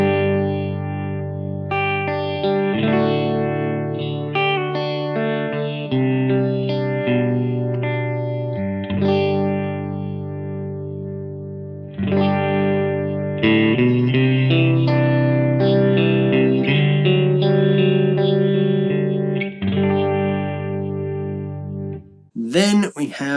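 An electric guitar runs through an All-Pedal Microdose phaser pedal, playing sustained chords with a sweeping, swirling modulation. The loud, distorted tones shift in phrases and end with a brief sharp burst.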